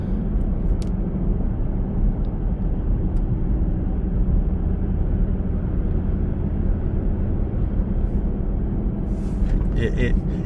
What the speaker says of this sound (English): Currently taking a 2021 Tacoma for a spin, just to see the noise difference.